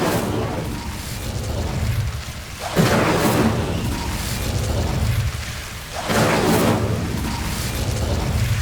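Two whooshing, booming bursts of the Incendio fire spell in Hogwarts Legacy, each a sudden fiery blast that swells and fades, spaced a few seconds apart, with a voice speaking between them.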